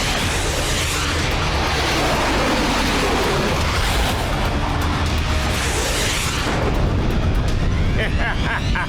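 A cartoon explosion blasts apart a whole continent in an animated Motu Patlu scene: a loud, dense, continuous roar of booming rumble and crackling debris that fills the entire stretch without letting up.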